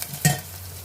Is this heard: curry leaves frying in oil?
yes